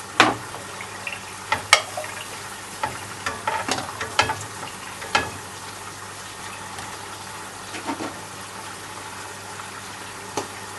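Chicken frying in butter in a pan, a soft continuous sizzle with scattered pops and spits, close and moderate in level, without any voices.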